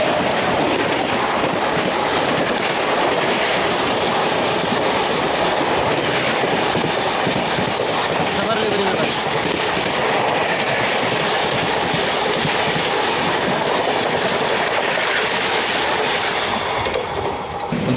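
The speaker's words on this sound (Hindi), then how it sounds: "अब आ रही है भाई इसके पीछे आनंद विहार प्रयागराज हमसफ़र एक्सप्रेस।" The Anand Vihar–Prayagraj Humsafar Express rushes past close by, a loud continuous roar of rolling wheels and rattling carriages that fills the whole stretch without letup.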